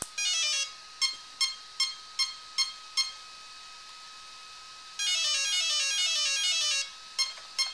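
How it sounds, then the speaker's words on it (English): An RC car electronic speed controller beeps on power-up while calibrating: a long rising tone sequence, then about eight short evenly spaced beeps, another long melodic run, and two more short beeps, loud and alone. "turn your ESC on until it beeps"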